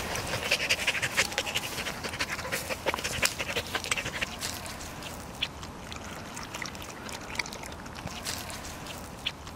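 Tommi the dog pants in quick, rhythmic bursts close by, with soft lapping-like clicks and ambient outdoor noise underneath, loudest at the start and settling into lighter panting later.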